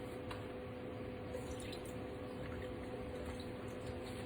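Chicken stock poured into a pot on a stovetop for chicken soup, a steady close liquid rush and patter that holds evenly throughout with no pauses.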